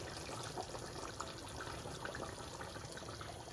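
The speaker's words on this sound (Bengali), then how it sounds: "আমি সামান্য পানি দিব" Water pours into a cooking pot in a steady, continuous stream, with a dense splashing rush that holds at an even level throughout and no other sounds.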